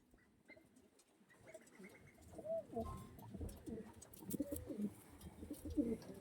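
A small pigeon of an old-generation Kalanka breed coos softly nearby in repeated low calls, with a few faint chirps and light handling noise around it.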